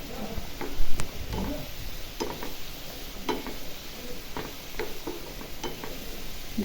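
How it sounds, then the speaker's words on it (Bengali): Onion and tomato sizzle steadily in a frying pan, a constant close hiss of frying broken by occasional clinks and scrapes of stirring, with no talk. "দেখুন আমার পেঁয়াজ আর টমেটোটা একটু কষানো হয়ে গেছে গা।"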